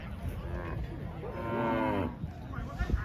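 A water buffalo at a cattle and buffalo market in Maha Sarakham, Thailand gives a loud, drawn-out moo lasting about a second, close by over the low bustle of the market.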